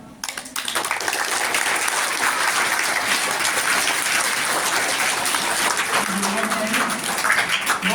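Sustained applause from an audience at an annual prize distribution ceremony at a madrasa, Jamia Shah Waliullah, filling the room steadily for several seconds with a faint voice underneath.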